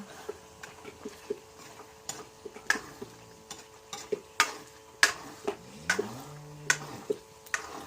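Turmeric curry with peas being stirred in a pan, a spoon scraping and clacking in an irregular run of sharp close taps over a faint sizzle, with no talk.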